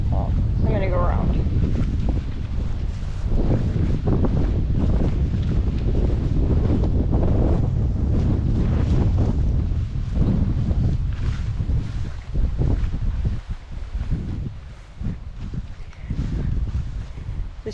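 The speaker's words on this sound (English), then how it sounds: "you can hear the wind" Gusty wind blowing by a river in Montana's Big Hole area, buffeting the microphone with a loud, continuous rumble throughout, with occasional brief voices underneath.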